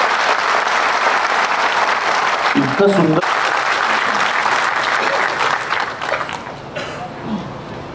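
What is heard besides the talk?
audience applause as the curtain opens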